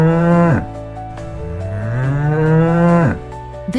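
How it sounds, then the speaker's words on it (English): A cow on a farm lets out two long, loud moos close by, one drawn-out low bellow followed by a second, with no talking. "This is a cow and it says."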